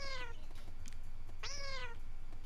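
Two clear meows from a cat in Super Amazing Wagon Adventure, one fading at the start and a louder, longer one just past the middle, over a steady low background hum.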